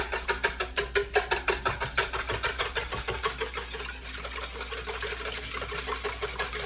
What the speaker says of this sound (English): And I'm going to use my whisk.